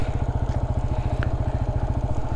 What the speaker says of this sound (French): je penche la moto, je redonne du rythme avec l'accélérateur et le point de patinage et on repart